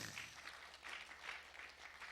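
Applause from a seated audience at a Korean academy lecture hall, a dense wash of clapping hands sustained steadily for a couple of seconds, fairly distant and even without any voices on top.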